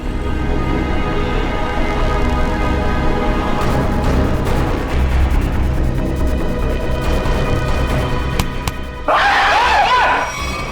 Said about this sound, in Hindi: लड़की की तरह चीखता क्यों है?